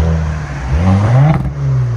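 A V6 car revs under a thick, throaty exhaust note that rises and falls, ending in a brief crackle and pop, heard close and loud with no talking.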